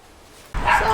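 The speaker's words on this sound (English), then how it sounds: "Nico's barking again." A Jack Russell Chihuahua mix puppy gives a sudden short bark, loud and close, after a brief quiet stretch.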